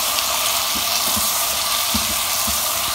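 Roughly chopped, peeled tomatoes, about five of them, sizzle and hiss steadily in a hot pan of mutton while being stirred, a constant bright frying noise with soft, irregular scrapes and knocks underneath.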